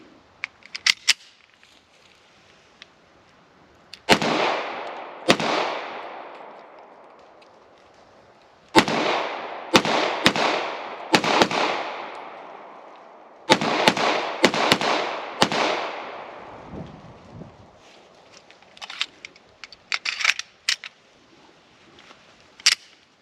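An FB Radom VIS-100 pistol fires at an outdoor range: loud, sharp single shots, some in quick pairs and clusters, each with a decaying echo, separated by quiet pauses and a few clicks.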